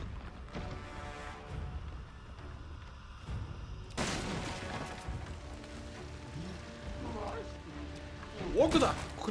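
Resident Evil 7: Biohazard gunfire: a few sharp, scattered shots and a louder blast partway through, over a busy background of game noise and voices.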